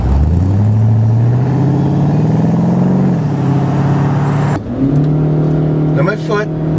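A 2014 Chevy Spark with a CVT accelerates at full throttle, its small engine droning at a steady, strained pitch that climbs slowly, heard from the cabin with a voice speaking over it.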